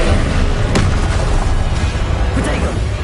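Confringo fire spells burst in Hogwarts Legacy on PS5 Pro, a dense, loud wash of explosive booms and crackling blasts that runs without a break, with sharper pops rising out of the roar.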